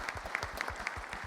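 An audience at a company's annual general meeting gives a modest round of applause, individual claps standing out in a fairly even, moderately close patter with no speech over it.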